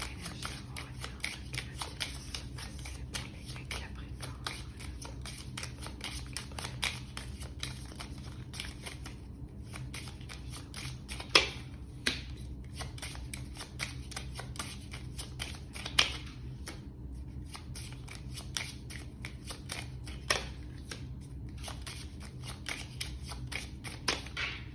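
A 32-card deck is shuffled for a tarot reading, with continuous close riffling and snapping of cards, sharper clicks now and then, and no voice.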